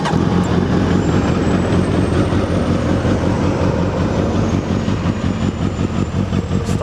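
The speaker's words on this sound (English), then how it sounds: "I'll go ahead and fire it up so you can hear those Yoshimura pipes" A Suzuki Hayabusa GSX1300R motorcycle fitted with Yoshimura exhaust pipes runs with a loud, steady, close rumble that persists without a break.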